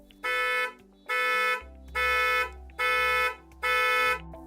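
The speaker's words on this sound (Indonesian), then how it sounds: "nanti suara klakson dan kedip lampunya harusnya bakal membantu saya menemukan mobilnya" Hyundai IONIQ 5 horn triggered remotely through Bluelink, blaring in five loud, even blasts about a second apart with short gaps between, close by and with no talk.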